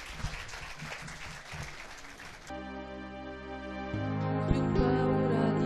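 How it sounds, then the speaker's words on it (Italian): An Italian TV studio audience applauds a singer's introduction with a few seconds of brisk clapping, then a music track begins and builds. "Un applauso."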